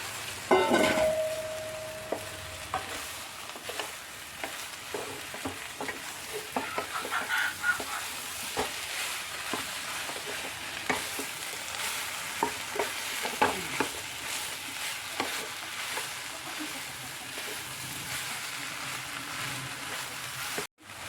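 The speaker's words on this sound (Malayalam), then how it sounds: "അപ്പോൾ നമുക്ക് നമ്മൾ സോയാബീൻ ഇതിൽ ഇട്ട് കൊടുക്കാം" Soybean chunks are stirred into a masala curry in a hot pan, with steady frying sizzle and repeated spoon scrapes running continuously and close.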